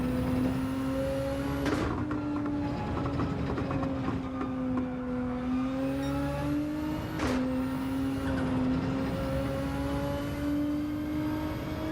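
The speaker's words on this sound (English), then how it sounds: "I think it's a 13 GTR for this" A 2013 Nissan GT-R engine droning steadily while driving in Gran Turismo 7, a sustained loud tone rising and falling slightly with two sharp bursts as gears shift, with no talk.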